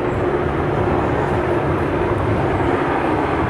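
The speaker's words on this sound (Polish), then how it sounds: "Samolot leci." A continuous, steady jet engine roar fills the air, loud and unbroken as an airplane passes overhead a hiking trail in Poland's Świętokrzyskie Mountains.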